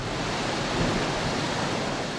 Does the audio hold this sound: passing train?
no